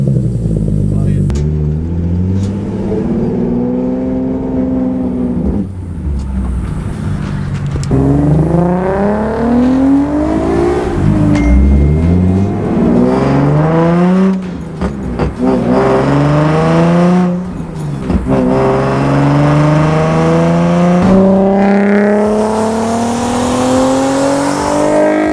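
Car engine revving loudly through a Tomei Ti titanium exhaust with non-resonated test pipes, rising and falling in repeated pulls and gear changes over about 25 seconds, with people talking now and then over the engine.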